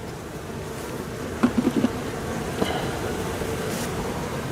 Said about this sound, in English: it's already covered with bees from that hive